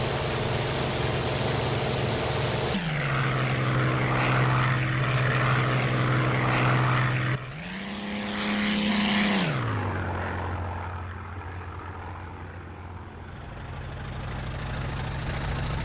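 Bf-109 propeller fighter engine droning steadily in flight in the IL-2 1946 flight game, loud and close, with the pitch dipping, rising through a brief surge, then settling lower; no talk.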